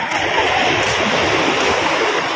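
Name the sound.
sea waves at Bagasbas beach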